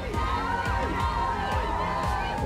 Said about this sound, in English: There's a massive crowd outside the stage.